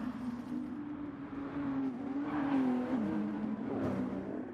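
Race cars lapping Bathurst in a sim racing game, a car twitching through the Dipper on worn tyres: a continuous engine drone that rises and falls in pitch as the car shifts and accelerates, steady and moderately loud throughout.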